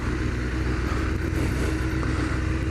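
A Suzuki Hayabusa motorcycle engine idles steadily at a fairly high pitch, a continuous close rumble with no voices.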